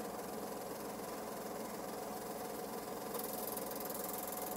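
A Eumig R 2000 Super 8 projector auto-threads film, its motor giving off a steady whirring mechanical hum with a rapid fluttering chatter, faint and continuous, brightening slightly near the end.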